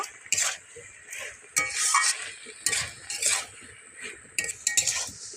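Dried fish curry being stirred in a pan after cumin-chilli paste goes in: bursts of spatula scraping and metal clinking against the pan over a light sizzle, close and moderately loud.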